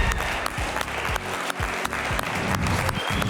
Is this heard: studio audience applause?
yes